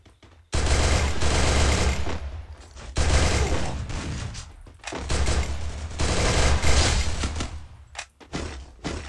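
Video game gunfire comes in long, loud bursts of rapid fire, with brief pauses between volleys and a few thuds near the end.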